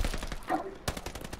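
Decoy grenade in Call of Duty: Vanguard, a Red Star hardcore team domination match, giving off rapid fake gunfire: a string of close, sharp bursts with a louder crack near the middle.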